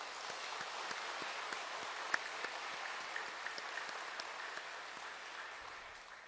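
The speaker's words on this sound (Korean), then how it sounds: "하나님께 영광의 박수를 올려드립시다" A church congregation applauding during a year-end Sunday service, a faint, distant, even patter of many hands clapping throughout.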